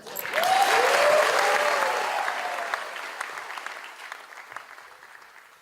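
An awards-ceremony audience applauds for Dr. Batra, a loud burst of clapping that swells quickly, holds for a couple of seconds, then gradually thins and fades.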